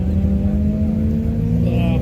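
BMW M3 engine droning steadily at a Las Vegas Speedway autocross, a continuous low rumble with a slight rise toward the end, with people talking over it.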